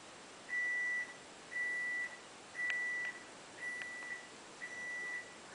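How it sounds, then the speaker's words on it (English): An electronic alarm beeps in five evenly spaced, sustained tones, each lasting about half a second, with steady pauses between them. The tones are clear and fairly close against quiet room noise, with no talking. "Maybe shut off the alarm."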